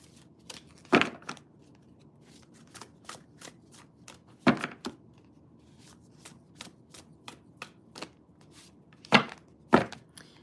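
Tarot cards being shuffled by hand, a run of crisp riffles and snapping taps, with several louder bursts spread irregularly across the stretch and quiet gaps between.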